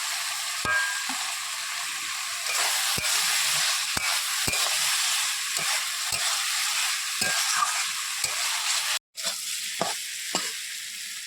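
Prawns frying in a pan give a loud, continuous, close sizzle, punctuated by regular sharp spatula taps and stirring clicks, with a brief cut near the end and no talk.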